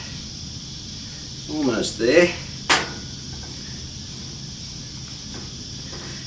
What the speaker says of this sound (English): the sound you can hear in the background is cicadas